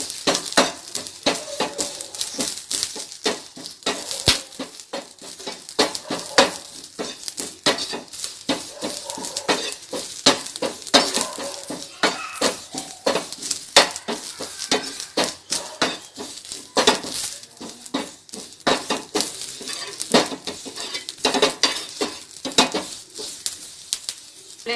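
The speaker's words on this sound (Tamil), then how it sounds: "கருவேப்பிலை நல்லா கிறிஸ்பியாகிற வரைக்கும் நல்லா வறுத்துக்கலாம்." Curry leaves fry in a pan while a utensil stirs them, scraping and clinking against the metal in a rapid, continuous series of sharp taps.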